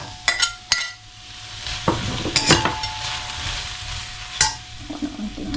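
Garlic, tomato and onion sautéing in a pan, a soft, continuous sizzle broken by several sharp scrapes and clatters of a utensil stirring, close and without talk.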